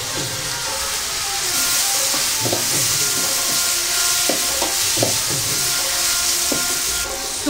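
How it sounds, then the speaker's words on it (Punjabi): Fried onions with chopped tomatoes and deggi chili added for Amritsari dal makhani give a loud, steady sizzle and hiss, broken by a few stirring scrapes and clinks in the pan. "ਹੁਣ ਇਹਦੇ ਵਿੱਚ ਦੇਗੀ ਮਿਰਚ ਪਾਉਣ ਲੱਗੀ ਹਾਂ ਨਾਲ ਹੀ ਅਸੀਂ ਇਹਦੇ ਵਿੱਚ ਕੱਟੇ ਹੋਏ ਟਮਾਟਰ ਪਾ ਦੇਣੇ"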